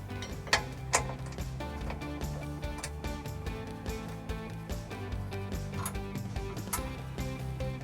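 A ratchet clicks away while factory bolts are tightened on a trailer hitch under a 2014 Dodge Durango, rapid close metallic ticks with a couple of sharper knocks early on.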